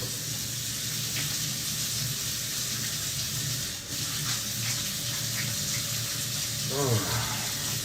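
Hands washed under a running kitchen tap, a steady close hiss of flowing water with brief splashing near the end and a voice speaking at times.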